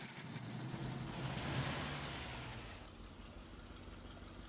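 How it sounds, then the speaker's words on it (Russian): An AP-4045 forklift in the Spin Tires video game starts up, its engine catching and building to a rougher, louder rumble that peaks and then settles into a steady idle, alone and fairly quiet. "изначально как будто заводится как ЗИЛ, а потом звук двигателя немножко меняется"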